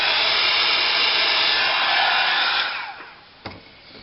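A heat dryer blows steadily and loudly to dry ink on a paper craft tag, a continuous airy roar that winds down after a few seconds, followed by a single small knock.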